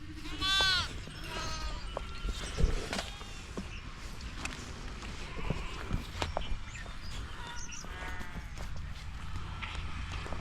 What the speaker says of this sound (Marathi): ह्या बकऱ्या आहे मित्रांनो मामाच्या.